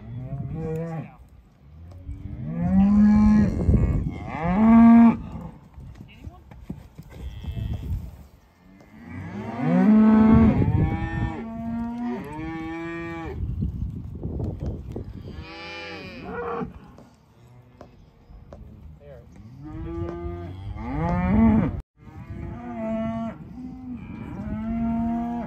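Cows and calves at a spring cattle roundup moo loudly and repeatedly, several overlapping low, drawn-out calls from close by, with short pauses between bouts.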